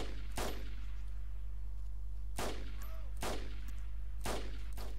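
Game gunfire from the survival shooter DayZ, a handful of sharp, loud shots spaced irregularly over a steady low background hum, with no talking during the shots.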